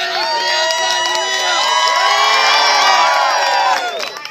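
A large crowd at the Tampa Renaissance Festival cheers and whoops loudly and close, a dense swell of high shouts and children's screams that holds for several seconds before tapering off.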